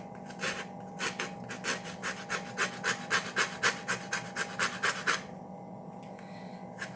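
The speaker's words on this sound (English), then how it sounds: "now we'll take our grater and we're going to grate in the lemon rind" Lemon rind being grated on a hand grater for a Greek chicken and potatoes dish, a steady run of about fifteen quick rasping strokes, close and fairly loud, that stops abruptly before the end, with no talking.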